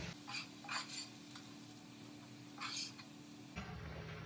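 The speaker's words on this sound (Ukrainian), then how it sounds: "Цибулька досмажується, дивіться, хороша цибулька." Onion fried in a pan before herring, a faint steady sizzle under a few soft stirring scrapes and clinks, with a brief louder kitchen shift near the end.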